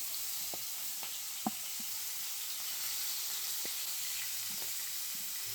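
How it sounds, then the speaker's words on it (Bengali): Small prawns sizzle in hot mustard oil in a kadai over a gas flame, a steady close frying hiss broken by scattered pops and light clinks, with no talking. "চিংড়ি মাছগুলো ঢেলে দেবো তেলের মধ্যে"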